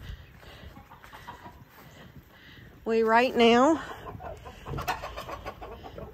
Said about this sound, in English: We had several mama chickens hatch some eggs